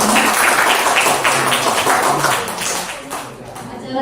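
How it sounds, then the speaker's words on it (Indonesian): Audience applause at an indoor seminar for two presenters, loud dense clapping sustained for a few seconds before tapering slightly, with a voice faintly beneath. "sekali lagi tepuk tangan untuk kedua narasumber"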